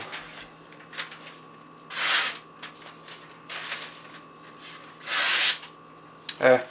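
A Chris Reeve Sebenza 21 folding knife with an S35VN steel blade slices through rope in several separate rasping strokes, each a short, close burst with quiet pauses between.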